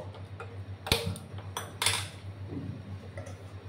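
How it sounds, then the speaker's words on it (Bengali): A metal pan set down on a gas stove in a home kitchen, with two or three sharp clanks close by against a steady low burner hum. "একটা প্যান আমি বসিয়ে দিলাম"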